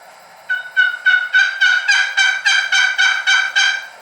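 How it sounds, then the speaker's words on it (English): A Supreme Grade Grand Old Master turkey box call scraped in about ten quick, evenly spaced raspy yelps that grow louder and then hold steady, close up and alone. "This is the Supreme Grade Grand Old Master."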